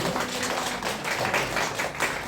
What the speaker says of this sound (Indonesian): Berikan tepuk tangan yang meriah lagi